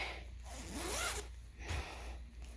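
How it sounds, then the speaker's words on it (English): A zipper on a handmade cross-stitch project bag is pulled in a few quick, close rasping strokes, heard alone without talk. "it has a zipper here, it's got a zipper inside"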